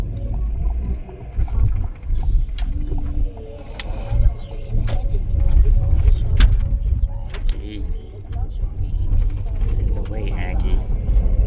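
A van driving slowly in low gear makes an abnormal rumbling, groaning noise with intermittent knocks and squeaks, heard from inside the cabin while a person speaks briefly.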